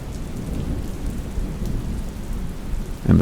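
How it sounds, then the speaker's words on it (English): Steady rain falls at night under thunder, a dense continuous hiss with a low rumble beneath, close and constant, and a louder thump near the end. "the warm and soft rain gently falling around me"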